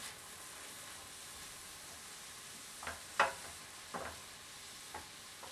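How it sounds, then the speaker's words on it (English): Flour being stirred into a frying pan while cooking green chili enchiladas: a faint steady sizzle with a few short scraping stirs of the spoon near the end, no talking. "Mix that around to coat everything."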